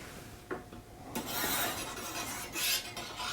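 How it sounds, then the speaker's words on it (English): A chrome flag pole slides onto the antenna of a Honda Goldwing, giving a faint, close rasping scrape that swells in a couple of longer rubs after a few light taps. "So I'm going to slip this on the antenna"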